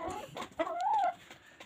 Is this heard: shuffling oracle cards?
no